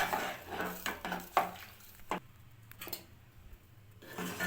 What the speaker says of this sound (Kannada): ಚೆನ್ನಾಗಿ ಮಿಕ್ಸ್ ಮಾಡ್ಕೊತಾ ಇದ್ದೀನಿ.